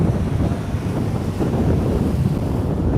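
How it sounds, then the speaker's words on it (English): Strong wind buffets the microphone outdoors in New York City, a steady low roaring rush that fills the whole stretch with no voices. "It's super windy."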